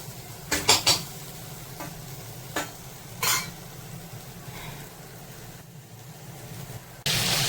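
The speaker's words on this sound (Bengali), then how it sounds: "এই যে পমফ্রেট মাছ ভাজা চলছে," Pomfret fish frying in a pan of oil gives a low steady sizzle, broken by a few sharp utensil scrapes and clinks near the start and middle, then a louder burst of hiss at the end.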